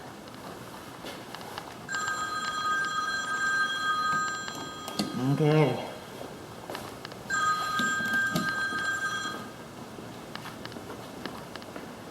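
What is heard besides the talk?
telephone ringing in a house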